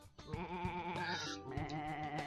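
Sheep bleat repeatedly in the video game Sheep Raider, the wavering game-audio calls loud and close over continuous background music, with no talking.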